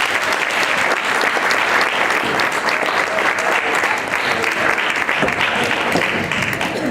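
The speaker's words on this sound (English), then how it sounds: "A round of applause for the introduction," A crowd at a hospitality training programme graduation claps in a dense, loud, sustained burst of applause that continues unbroken for several seconds.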